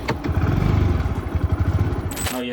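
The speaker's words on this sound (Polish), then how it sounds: "A ja sobie przyjechałem takim pojazdem, no to też muszę nim wracać. Skuterek." A small motor scooter on a farm in the countryside revs and pulls away, its engine loud and close with a rough, pulsing clatter, then fading as it rides off, with no speech.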